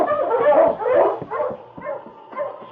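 Sled dog King, a husky in a Yukon radio drama sound effect, barks and yips in a loud, close run of repeated barks over about three seconds, the bursts swelling and fading with no voices.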